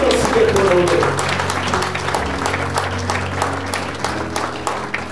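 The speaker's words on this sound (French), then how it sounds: "Nous l'honorons aussi par nos acclamations" A congregation at a memorial service applauds and cheers in a dense, loud wash of clapping that fills the hall, with voices mixed in and a low sustained tone underneath.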